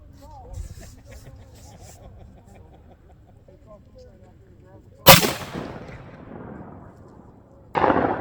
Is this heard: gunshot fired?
yes